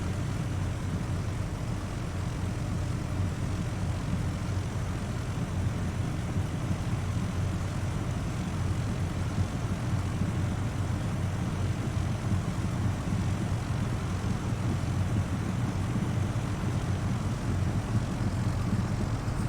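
A steady, droning propeller airplane engine from the video game Flight Simulator 2000 runs continuously at an even, loud level, with no pauses or talking.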